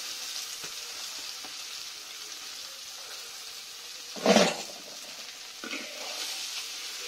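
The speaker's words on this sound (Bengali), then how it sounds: "এবার ঢেলে দেওয়া পুরোপুরি নুডলসটা।" Noodles tipped into a hot pan and stir-fried, a steady sizzle running throughout with a brief louder burst of hissing and clatter midway and a smaller flare near the end.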